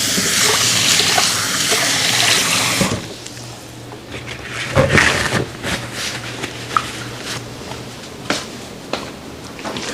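Tap water gushes loudly into a kitchen sink during a rinse for a beet veggie burger recipe, then shuts off, leaving quieter clatter and handling noises in the room.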